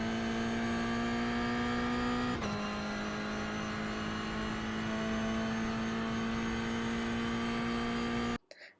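Toyota GR86 engine in the iRacing simulator at Okayama International, a steady high-pitched engine drone holding and climbing after a gear change, loud and constant, then cutting off abruptly at the end.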